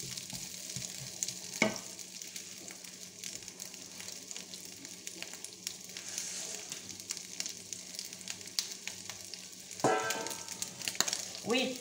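Beef browns in a pan for boeuf bourguignon with a steady, soft sizzle and frying crackle, punctuated by a few sharper stirring scrapes, close and fairly quiet.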